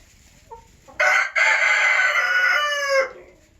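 A rooster near a new chicken nesting box gives one loud, close crow that is held for about two seconds with a brief break near the start, after a soft cluck.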